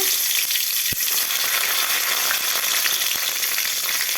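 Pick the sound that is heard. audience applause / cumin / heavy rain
cumin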